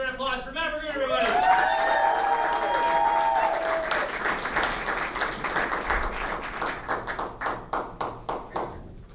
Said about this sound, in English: Give him a big round of applause for Matt Burgoon, everybody!